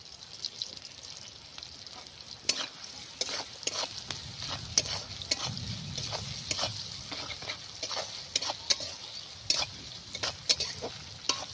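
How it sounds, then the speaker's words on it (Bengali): Food sizzles steadily in a pan while a spatula repeatedly scrapes and taps through it, with salt added, the stirring clicks scattered irregularly over the constant frying hiss. "হালকাভাবে একটু ভেজে নেব"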